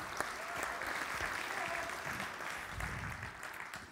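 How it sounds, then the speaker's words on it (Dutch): A debate audience applauds for several seconds after a provincial election debate in Overijssel, a steady wash of clapping at moderate level from a hall crowd. "Applaus voor Margreet."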